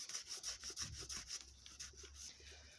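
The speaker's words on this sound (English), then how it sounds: "I may have to go over it lightly with the Scotch-Brite" Scotch-Brite pad rubbed back and forth over a rusty metal lathe chuck in a workshop, a steady rhythmic hissing scrub of about a dozen strokes, close and faint, with no speech.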